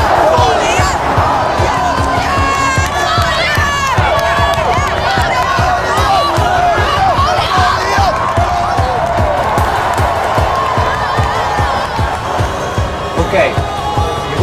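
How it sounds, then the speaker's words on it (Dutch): About two hundred film extras crowd around a fight cage during a shoot, shouting and cheering in a loud, continuous roar with rhythmic pounding beneath it; voices talk over the din. "iedereen die begon te schreeuwen van Demmink, op die kooibonken"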